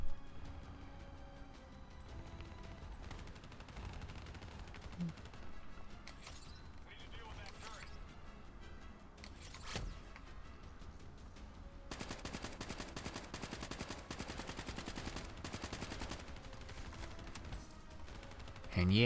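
Bursts of gunfire from the Call of Duty Black Ops 3 video game crackle amid mechanical clatter and ambient battle noise, ending in a sustained rapid volley near the close, with a voice talking over parts of it.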